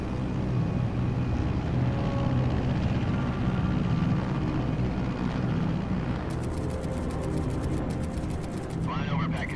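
A steady, loud drone of an aircraft in flight fills the scene in Metal Gear Solid Delta: Snake Eater, joined near the end by a rapid mechanical chatter and a brief tonal warble.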